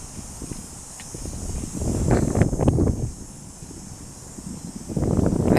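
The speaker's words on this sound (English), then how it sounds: "I want to wait until the wind passes." Wind gusts buffet an outdoor microphone, building into louder rushing bursts midway and again at the end, with a faint rustle underneath.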